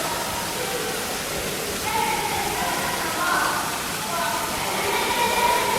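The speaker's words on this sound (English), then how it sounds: "Really like the waterfall." Water from a small waterfall pours into a hotel fish pond in Malaysia as a steady, even rush that fills the whole clip, with faint voices murmuring underneath.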